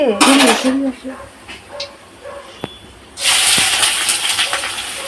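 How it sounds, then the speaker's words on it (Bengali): Food frying in mustard oil in a pan gives a loud, bright sizzling hiss that drops away partway through and then surges back strongly, with voices talking over it. "সর্ষের তেল দিয়ে ভাজছো মা"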